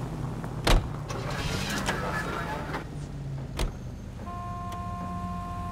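In the L.A. Noire video game, a character gets into a car and drives off: a sharp door thud, a second clunk a few seconds later, and a running engine hum under it, with a steady tone entering near the end.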